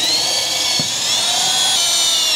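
A power drill bores through the steel frame of an ATV trailer, giving a steady, loud, high-pitched whine that continues throughout without any talk.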